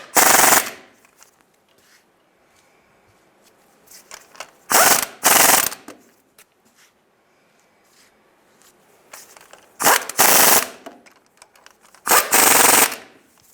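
A hand ratchet clicks in fast, loud bursts while tightening timing chain bolts on a 2007-2013 Chevy Silverado engine, with four separate runs of cranking and quiet pauses between them.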